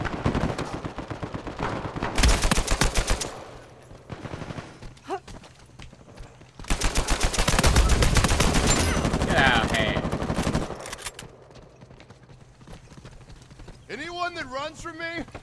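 Suppressive gunfire in an Uncharted 4 team deathmatch in Madagascar City, with dense rapid automatic bursts coming in loud waves separated by quieter gaps, while a player talks and shouts over the fighting.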